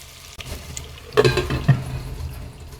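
A pan of potatoes with turmeric powder sizzles softly while a spoon stirs them, with a couple of louder scraping strokes near the middle and no talking.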